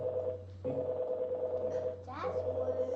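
A mobile phone rings during a book launch event, its steady tonal ringtone carrying through the room under faint background voices.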